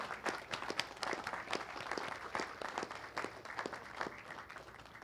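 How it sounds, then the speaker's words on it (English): Outdoor Memorial Day ceremony crowd applauding a singer, Sergeant First Class Hall: scattered, fairly sparse clapping with distinct individual claps, moderately distant and steady throughout. "Let's give her a round of applause."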